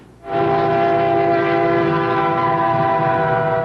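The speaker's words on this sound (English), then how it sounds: "The white train carries nuclear warheads, moving them from their final assembly point in Amarillo, Texas, to submarine and other military bases." Heavily guarded train carrying nuclear warheads from Amarillo, Texas, to military bases sounds a loud, sustained horn blast that starts abruptly and holds steady over rumbling rail noise.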